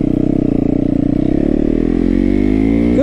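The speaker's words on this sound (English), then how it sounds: "it's nothing like riding a motorcycle" A motorcycle engine rumbles steadily up close, its pitch rising as it accelerates toward the end.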